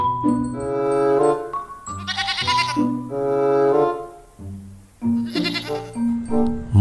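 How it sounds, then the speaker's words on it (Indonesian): A goat bleats loudly several times in a row, wavering, nasal calls close by with short pauses between them. "Ini kambing, teman-teman."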